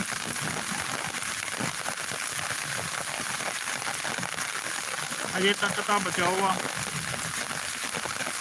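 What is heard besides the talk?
rain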